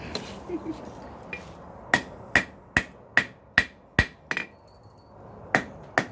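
A hammer rings on an anvil while forging a spring damascus blade, with several sharp, loud, evenly spaced strikes and a few lighter taps in between over a quiet room tone.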